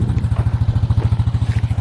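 A four-wheeler ATV engine runs close by on a hunting trip in a canyon, making a steady, rapid, low thumping idle with even pulses throughout.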